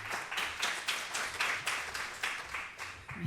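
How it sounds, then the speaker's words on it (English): Audience applause at an academic panel on Islamic psychology, a steady wash of many hands clapping with a gently pulsing rhythm, moderately distant and without speech. "Round of applause."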